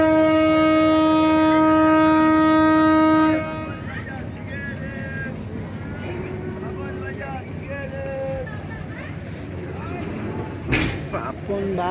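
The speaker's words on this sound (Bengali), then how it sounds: "ট্রেন ছেড়ে দিবে" A train at Sreepur station sounds a long, loud multi-tone horn for several seconds, then rumbles and clanks steadily as it pulls away, with a sharp burst near the end and voices talking through it.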